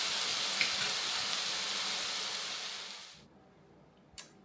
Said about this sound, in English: And now I'm going to fry pineapple slices.